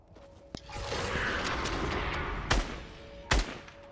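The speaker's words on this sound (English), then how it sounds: "There's a bunch of shooting going on." Video game gunfire in Fortnite: several sharp, loud shots crack over a steady hissing background, with one early report and two heavier blasts near the end, irregularly spaced and fairly close, with no talking.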